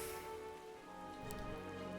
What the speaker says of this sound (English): Yeah, it's also raining.